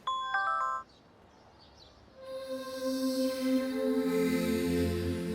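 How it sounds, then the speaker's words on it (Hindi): A phone ringtone plays, first a short bright electronic chime and then, after a brief pause, a sustained melodic ring tune that gradually grows fuller, with no talking. "प्रिंसिपल मैम का फोन।"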